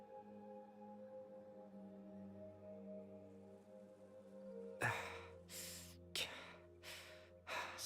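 A character in the video game Genshin Impact breathes in heavy, rhythmic panting gasps, starting after a stretch of sustained game music and repeating in several loud, close bursts.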